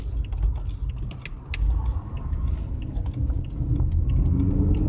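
An older BMW M3 rumbles at low speed on the road, a steady, fairly quiet engine drone with road noise and faint interior ticks and rattles, with no talking over it.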